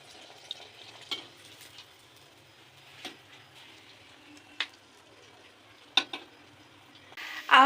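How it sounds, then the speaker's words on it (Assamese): Tel pitha, Assamese fried rice cakes, cook in hot oil for a Magh Bihu Uruka meal, with a faint steady sizzle broken by occasional stirring clinks and taps, close by and without talk. "আৰু এয়া বায়ে বনাই আছে তেল পিঠা"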